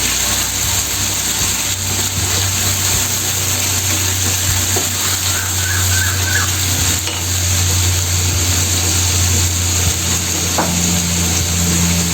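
A spice masala with coconut paste and peanut paste frying and being stirred for raw banana kofta curry, giving a steady close sizzle throughout with light scraping, no talking.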